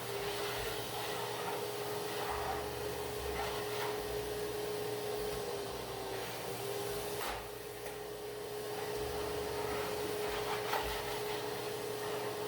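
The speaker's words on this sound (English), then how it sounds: "Start with some vacuuming." A vacuum cleaner runs steadily in a basement under renovation, giving a continuous whining drone with slight shifts as it is pushed around, close and alone.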